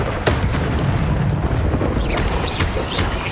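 In the Hogwarts Legacy video game, an Incendio fire spell blasts out as a loud, close, roaring burst that rumbles with a fiery whoosh, without voices.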